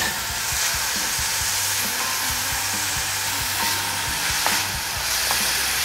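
Onion sizzling in a hot pan at the start of a mushroom risotto, a close, steady hiss of frying with soft crackles and the scrape of stirring underneath, no one speaking.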